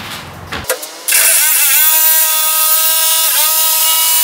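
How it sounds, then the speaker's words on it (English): A power saw spins up with a sharp jump to a loud, steady high whine as it cuts plywood for a welding platform, following a brief stretch of quieter clatter, with a slight pitch dip midway. "So we're going to get on the plywood and start cutting it."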